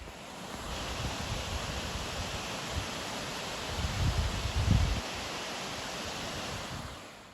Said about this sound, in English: Now this would be a pretty cool double waterfall if you could only see it.